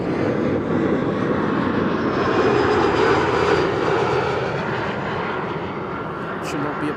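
KLM jet airliner, flight 1198 from Oslo, landing at Amsterdam Schiphol on a frosty, sunny day, with a strong engine roar that builds toward the middle and then gradually fades as it passes.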